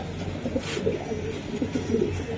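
Racing pigeons coo softly and repeatedly at a loft with a pigeon seller, a steady murmur of low bird calls with a faint continuous background hum and no talk over it.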